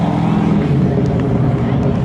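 A 1984 Chevy Camaro Z28 drives toward the finish stripe at a spectator drag race at Seekonk Speedway, its engine a loud, steady roar, with an announcer talking over the top and crowd noise behind.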